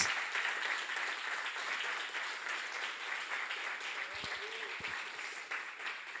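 A church congregation at a Portuguese-language sermon breaks into steady, even applause, a continuous dense patter of many hands with a few low thumps near the end.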